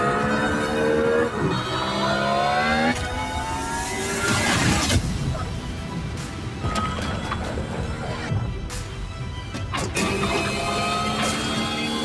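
A Hyundai IONIQ 6 N performance car drives hard, loud synthetic engine tones rising and falling through shifts, with mechanical clunks and rattles and a few sharp impacts mixed in.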